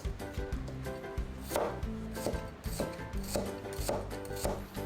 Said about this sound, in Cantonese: 我哋準備一個紅葱頭， 將佢切成絲。